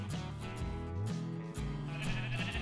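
Sheep in the video game Minecraft bleat in a forest, with repeated wavering calls over a steady musical background, loud and close throughout.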